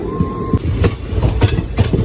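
Crowded passenger train running from Junagadh toward Jetalsar on a Girnar Parikrama special, heard from the open doorway: loud steady rumble with regular clickety-clack wheel beats over the rail joints.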